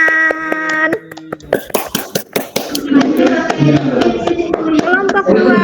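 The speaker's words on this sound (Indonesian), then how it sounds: "Oke, beri tepuk tangan." Classroom applause for the winning quiz group during a peer-teaching lesson, a burst of many hands clapping that swells after a brief pause and keeps up steadily, with some voices mixed in.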